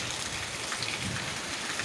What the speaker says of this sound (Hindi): और यही वह बारिश है